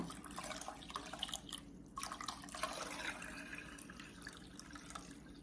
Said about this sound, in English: we're gonna add some more water to the beans